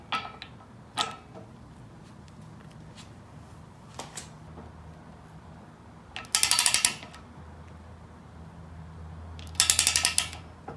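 A ratchet wrench with a 19 socket tightens the steering stem nut on a Honda 400ex, giving two loud bursts of rapid ratcheting clicks between a few scattered metallic taps and knocks.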